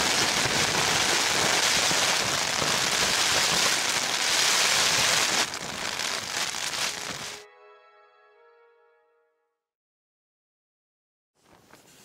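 Heavy rain pours down on Dartmoor during wild camping in a dense, steady roar, then cuts off abruptly, leaving a brief ringing tone fading into silence.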